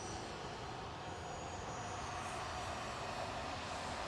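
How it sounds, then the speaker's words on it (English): A Cessna Citation Latitude business jet operated by NetJets Europe at Manchester Airport gives a faint, distant, even jet rumble that stays steady with no voices. "It's a Cessna Citation Latitude for NetJets Europe."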